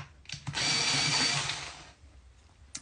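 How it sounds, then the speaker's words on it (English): A pencil sharpener grinding a pencil tip, one loud whirring burst of about a second and a half that fades out, with faint knocks before and after. "Where is my sharpener?"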